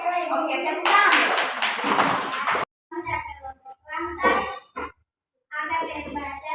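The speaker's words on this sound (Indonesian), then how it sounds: "Oke, tepuk tangan." Hands clapping in a classroom group presentation, a dense burst of claps for about two seconds, then children's and adults' voices talking between short pauses.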